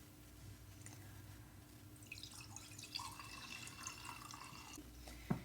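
Hot pour-over coffee is poured into a cup, a faint close trickle of liquid that rises in pitch as it fills, with soft drips and a small clink at the end.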